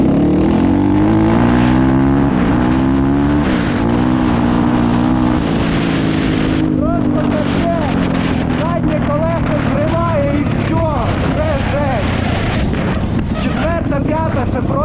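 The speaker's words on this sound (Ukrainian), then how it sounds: "якщо на ньому дати чуть різче газу, з третьої передачі заднє колесо просто зноситься" A 2021 GEON GNS 300 motorcycle revs hard with its rear wheel spinning on a dirt road, a loud continuous engine roar shifting in pitch throughout, with someone talking over it.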